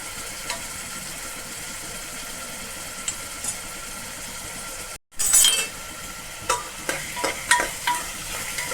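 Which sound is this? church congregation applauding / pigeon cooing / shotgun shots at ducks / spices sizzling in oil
spices sizzling in oil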